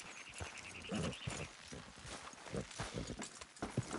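Horse hooves clip-clop at a steady walking rhythm, moderately close, over a busy background of creaks and ambient noise, in the video game Red Dead Redemption 2.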